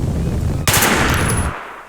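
A gun reload in the video game Teardown, a soft rustling mechanical swell that starts abruptly partway through and fades out after about a second.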